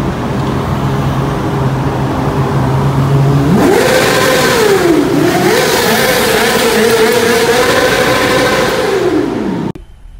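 A superbike engine revs loudly beneath a bridge, idling steadily before sharply climbing in pitch, dipping and rising again through sustained high revs, echoing close and strong before cutting off abruptly.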